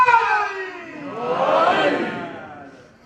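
A crowd of women in a religious gathering chants a slogan together, one loud rising and falling collective cry that swells and fades within a few seconds.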